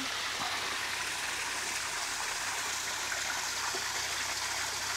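Cold water from an underground source pouring steadily on a farm, a constant close hiss of flowing water with no breaks.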